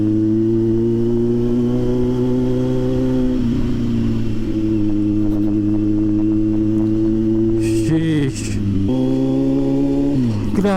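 Kawasaki Z900 SE motorcycle climbing steep roads in first and second gear, its engine droning steadily and loudly close by, with pitch dips and rises as the throttle shifts near the end.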